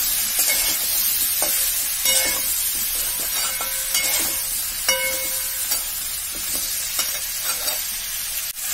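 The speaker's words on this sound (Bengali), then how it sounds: "এবার কাঁচা লঙ্কা গুলো দিয়ে দিলাম।" Green chilies are stir-fried in a pan for a vegetarian papaya and potato curry, making a steady bright sizzle with regular scraping stirs and light clinks of the spatula, close and alone.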